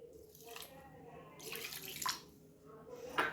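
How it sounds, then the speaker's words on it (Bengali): Water being poured into a sour yogurt mix for doi bora, heard as close splashing and trickling bursts, fairly faint and with short pauses between pours. "এবারে দিয়ে দেবো জলটা"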